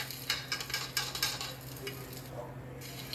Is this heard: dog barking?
no